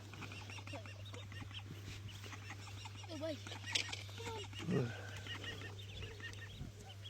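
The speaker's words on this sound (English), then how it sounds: "We've got ourselves a duck." A duck quacks in a fishing bivvy, a run of close, fairly loud calls with a few stronger bursts midway, over a constant low hum and some talking.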